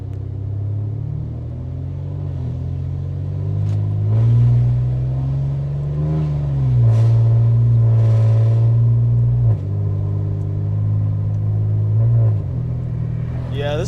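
Ford Taurus Limited engine running close by, a steady low rumble that swells into several revs and then falls back to a throaty idle, with brief bursts of talk over it.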